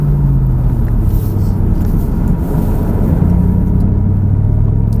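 A Ford Mustang Shelby GT500 engine pulls hard on track, a loud, deep continuous roar with rising and steady revving tones heard close from inside the car, no talking over it.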